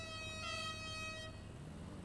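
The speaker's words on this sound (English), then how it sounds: "It's an air horn, isn't it?" A truck-style air horn blasts loud and steady for about a second, then cuts off, leaving low engine rumble and road noise underneath.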